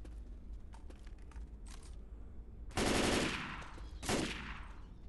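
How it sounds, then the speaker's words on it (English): Assault rifle fire in a video game, two short loud bursts of rapid shots after a few faint clicks, close and alone with no talk. "Grabbing the assault rifle."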